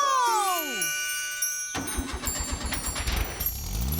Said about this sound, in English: Oh, we've got no petrol, but the car's working.